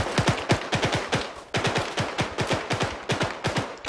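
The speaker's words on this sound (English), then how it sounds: "Firing over your head." Sustained automatic rifle fire in the military simulation game ArmA, loud and close, with rapid bursts of evenly spaced shots broken by a brief pause before another steady string of rounds.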